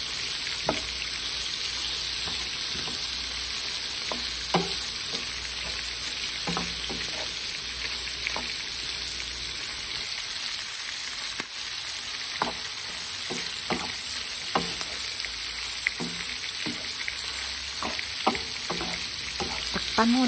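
Galunggong fish fries in a pan with a constant dense hiss of oil and scattered pops and crackles, close and steady for a long stretch, with faint talk in places.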